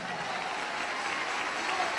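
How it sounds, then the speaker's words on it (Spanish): Church congregation applauding for Jesus, a continuous, even wash of clapping heard from some distance, steady and moderately quiet throughout. "Dele ese aplauso a Jesús"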